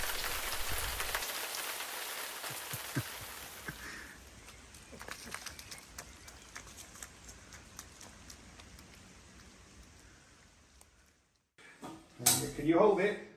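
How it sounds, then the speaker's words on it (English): Heavy rain pours down on a farm in Portugal, a dense hiss that is loud at first and then eases into scattered patter and drips, with a few knocks and a brief clatter near the end. "a deluge of rain unlike anything we'd seen so far"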